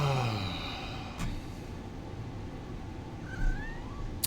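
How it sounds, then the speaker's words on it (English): A cat meows loudly up close right at the start, and a second, briefer meow follows a few seconds later, with a faint hum in the background. "Here's the cat."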